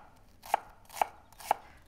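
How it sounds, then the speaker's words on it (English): A knife chops shallots on a cutting board, three crisp, evenly spaced thuds about half a second apart, close and clear against a quiet background. "So just about 1 tablespoon of chopped shallots."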